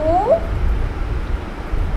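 A single short cat meow sounds right at the start, close and clear, then fades into a low, steady background hum.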